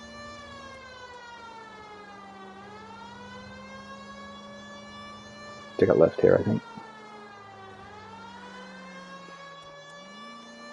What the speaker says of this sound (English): I think this is worthy of sirens.